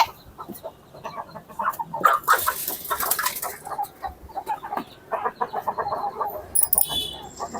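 Backyard hens being fed leafy greens cluck and peck nearby, a busy run of short clucks and scratchy rustles with a brief flap of wings, no voices over them.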